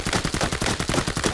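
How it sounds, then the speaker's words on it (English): The T591 gun in Arena Breakout fires full-auto, a loud, close stream of rapid, evenly spaced shots with no pause through the burst. "not going to control the recoil at all in the shoot"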